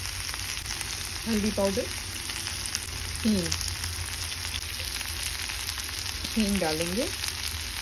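Vegetables frying and sizzling in a pan with spices while poha is being made, a steady broadband sizzle running throughout as a voice talks over it in short phrases.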